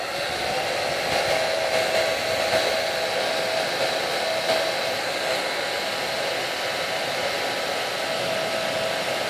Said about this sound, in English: If you have a hairdryer, you can make it dry faster.